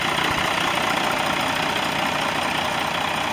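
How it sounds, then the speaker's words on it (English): A 2006 Freightliner Columbia truck's 450-horsepower Mercedes-Benz diesel engine idles steadily and close by, with a constant knocking rumble and broad mechanical hiss, and no talk over it. "Mercedes-Benz diesel power up front, 450 horsepower"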